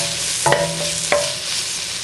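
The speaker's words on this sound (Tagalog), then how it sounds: "isusutay din natin ito hanggang maging transparent naman yung ating onion" Onions and garlic sautéing in a pan with a bay leaf, giving a continuous hiss of frying with two brief utensil clinks, close and steady.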